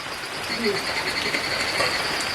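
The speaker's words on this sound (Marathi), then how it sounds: "या बाजूला कुठेतरी बेडकं ओरडत आहेत." Frogs croak in the background amid steady rain and wind noise, a continuous outdoor wash with faint calls rising now and then.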